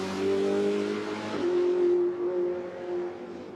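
A Ferrari Challenge race car lapping Spa-Francorchamps in qualifying, engine note holding high and loud, then a shift and renewed rise before fading slightly as it moves away.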